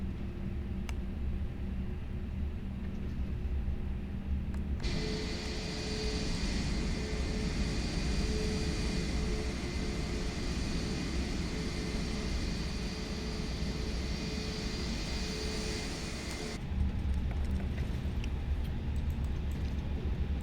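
Airliner engines spool up for takeoff on an Air Arabia flight in a flight simulator, a steady broadband roar with high whining tones that starts abruptly and holds loud and constant for about twelve seconds before dropping back.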